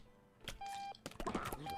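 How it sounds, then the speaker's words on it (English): Electronic alarm clock beeping in the video game Octodad: Dadliest Catch, a few short sustained tones close and clear, with some clattering game sounds around them. "turn off that alarm."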